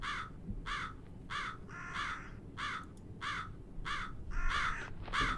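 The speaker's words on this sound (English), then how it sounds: "Crow type beat." A crow caws repeatedly in the horror video game Jisatsu, about ten evenly spaced harsh calls rising clearly over a low rumbling background.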